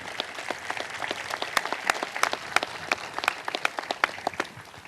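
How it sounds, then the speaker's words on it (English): Applause for a pianist from a small audience, individual claps clearly separated into a brisk uneven patter at moderate distance, fading slightly at the end. "Y'all need to give Darryl a round of applause"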